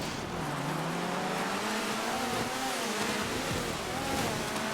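Car racing on a rallycross track with jumps and tight sections in GTA 5, a continuous loud engine drone rising and falling in pitch as it revs and shifts, with a second engine layered beneath.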